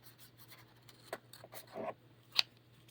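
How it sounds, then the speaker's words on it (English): Scissors cut paper in a quiet room, giving a few soft, separate snips and slides spread over several seconds. "I'm going to take my scissors and I'm going to cut right along that edge"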